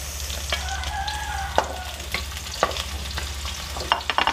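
Garlic and onion stirred and sizzling in a hot frying pan while cooking pork belly binagoongan, a steady crackling fry broken by several sharp scrapes and clinks of a utensil, close and alone.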